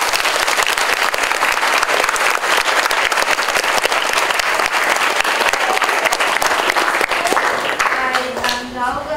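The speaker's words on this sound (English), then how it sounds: "round of applause, come on!" Loud, steady audience applause with crisp individual claps at a university campus education tour event, continuing for several seconds before fading slightly as a voice starts to speak.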